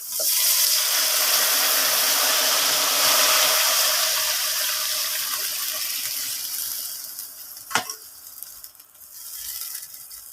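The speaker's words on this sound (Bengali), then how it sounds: "এর ভিতরে কিছুটা পরিমাণ জল দিয়েছি আমি এবার ঢেলে দিচ্ছি" Spiced water is poured into a pan of frying hilsa fish, making a loud, steady hissing sizzle that slowly fades over several seconds, followed by a brief knock and quieter bubbling.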